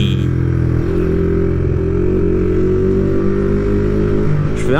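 A motorcycle engine drones loudly and steadily while being ridden, heard up close, its pitch rising gently through a gear before a brief shift near the end.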